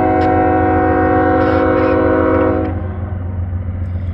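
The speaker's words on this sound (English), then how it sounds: "Not recognizing this horn" Freight train horn on a CSX line at night, a loud sustained multi-tone blast sounding close, with a brief lighter tap near the start, cutting off after a few seconds to leave a low rumble.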